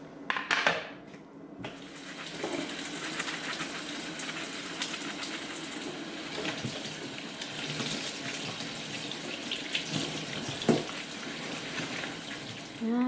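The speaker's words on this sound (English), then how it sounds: "I want to wash my palette." Running sink water rinsing a paint palette, a steady splashing stream that shifts as the palette moves beneath it, with a few louder clatters and a faint voice in the background.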